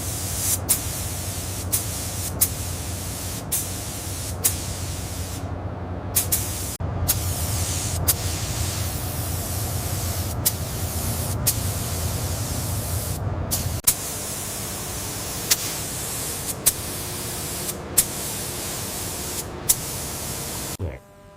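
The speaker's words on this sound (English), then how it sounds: "the lower chassis is sprayed in a satin chassis black" Steady spray-gun hiss coats the lower chassis of a 2003 Dewulf R3000 Mega potato harvester in satin chassis black. The hiss is continuous and close, with sharp clicks at regular intervals throughout.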